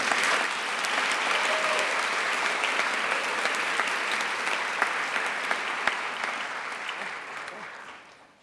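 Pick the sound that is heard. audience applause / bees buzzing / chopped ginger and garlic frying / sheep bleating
audience applause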